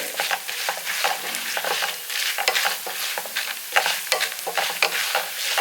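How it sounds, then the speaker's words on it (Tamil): Ingredients roast in hot oil in a pan for a chutney, with a spoon steadily stirring and scraping through a continuous close sizzle and no talking. "எண்ணெயிலே வந்து நல்லா ரோஸ்டடாக வறுக்கணும்"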